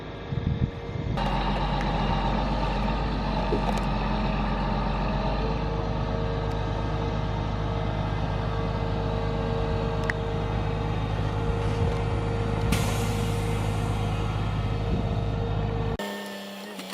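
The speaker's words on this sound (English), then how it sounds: "Big self-loading logging truck." Big self-loading logging truck, used to haul Douglas fir, idling after starting up: a loud, steady diesel engine rumble that runs unbroken for most of the stretch and then cuts off abruptly near the end.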